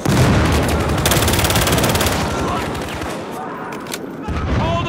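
Dense, continuous gunfire in Battlefield Hardline, overlapping rapid shots and a loud fusillade that stays close and intense, easing slightly before a final burst, with battle noise throughout.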